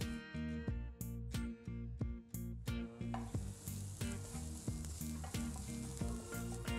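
Garlic dropped into a hot pan with oil starts a hissing sizzle partway through, under steady rhythmic background music that plays from the start.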